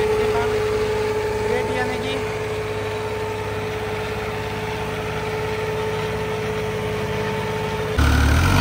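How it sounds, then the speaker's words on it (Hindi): A modified tractor engine labours hard as it works through heavy, dense soil, giving a steady, loud drone with a constant tonal hum throughout, ending in a sudden jump in low rumble. "मतलब इस तरीके का ट्रैक्टर चल रहा है, इतना जोर लग रहा है क्योंकि माटी ज्यादा है"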